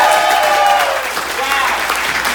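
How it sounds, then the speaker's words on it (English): Audience applause at a comedy show's headliner night, a steady wash of clapping filling the room throughout, loud and close with no pauses. "y'all gotta clap me in"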